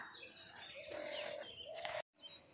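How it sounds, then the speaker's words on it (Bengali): A kingfisher perched beside a rural village road gives short, high chirping calls, fairly faint and heard alone against quiet surroundings. "ওই যে মাছরাঙা বসে আছে ও সকাল থেকে খাবারের জন্য"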